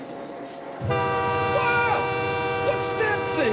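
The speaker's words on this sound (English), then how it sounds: "That's the train." A train horn sounds in a train yard at night, its sustained multi-tone blast starting abruptly and holding loud for several seconds as a voice exclaims over it.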